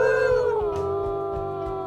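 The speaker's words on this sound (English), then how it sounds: "There's Soot going off with a howl for the day." A wolf in the video game Wildfire Legacy lets out a long, sustained howl that slides down in pitch and then holds steady, loud and close, with faint thumps underneath.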